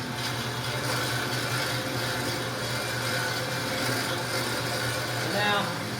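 A 1940s Kalamazoo horizontal cutting saw spins up and runs steadily, giving a continuous mechanical hum with a low motor drone and broadband whir at constant level, close by, with no talk over it.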